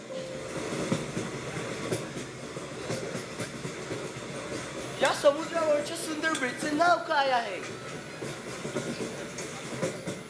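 A school annual gathering stage play for Std X uses a train sound effect of rolling rail clatter, running steadily under the whole stretch while a person speaks over it midway.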